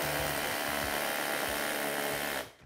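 A power tool drives a screw into a concrete wall, whining loud and close at a steady high pitch for over two seconds before cutting off abruptly.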